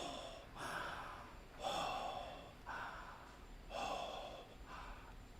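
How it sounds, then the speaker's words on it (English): Rhythmic breathing during a calming breath exercise, a series of five or so soft, airy inhales and exhales at an even pace, close and fairly quiet. "Do your breathing exercises like we said"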